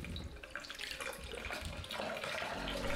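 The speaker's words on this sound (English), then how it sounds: "Flush the drain with water to help clear any remaining debris." Water runs steadily down a shower drain being flushed after cleaning, a continuous rushing splash at close range with no talk.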